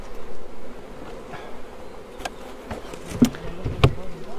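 Honey bees buzzing around an open Welsh hive in spring, a steady insect drone with a few louder close passes near the end, no voices.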